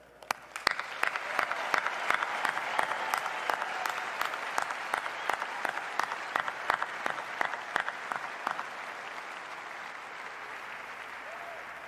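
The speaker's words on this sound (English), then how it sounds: "So please join me in a round of applause for all our graduates." Steady applause from a large crowd for graduates at a spring university commencement ceremony in a big venue, dense clapping that starts abruptly, holds for about ten seconds and slowly fades.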